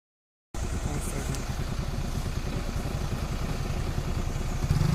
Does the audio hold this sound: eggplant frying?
no